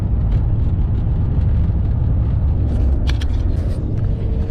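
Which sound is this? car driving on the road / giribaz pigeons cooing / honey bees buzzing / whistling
car driving on the road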